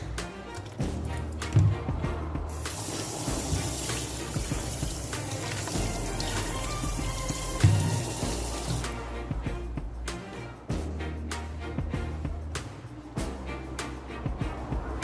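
Tap water runs into a sink while pasta is drained and washed, a steady close gush with short breaks and clatter of handling in between.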